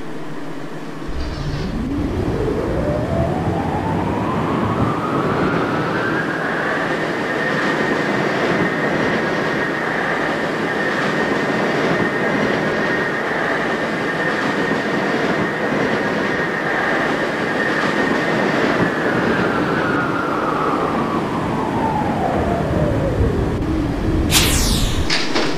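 A New York subway shuttle train on the Inwood–Parsons run passes loud and close: its motor whine rises, holds a steady pitch for a long stretch, then falls away, with continuous rumble and rattling throughout.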